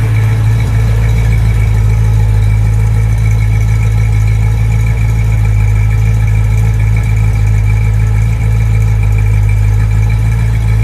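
Pontiac GTO engine idling on stock rusty mufflers, a loud, steady low rumble with a constant throb and no revving, heard close up and alone.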